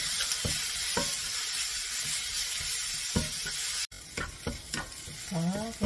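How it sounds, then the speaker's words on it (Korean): Carrots and vegetables stir-fried in a pan for mini gimbap, a continuous close sizzle broken by repeated spatula scrapes and taps, no voices. "자, 볶아줍니다."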